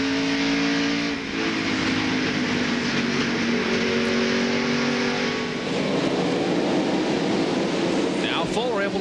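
Stock cars race in the 1996 Food City 250 Busch Series event, their engines a continuous loud roar of high revs that holds through the whole stretch while a commentator talks over it.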